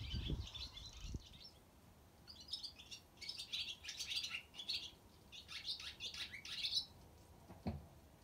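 Several swallows call in twittering bursts around a farm in summer, a steady chatter of chirps at moderate distance over low background noise, with a couple of faint thumps.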